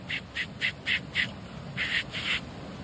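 A voice mimics the cry of a baby bird with five short, squeaky, evenly spaced calls, a pause, then two longer ones, close up over a faint background.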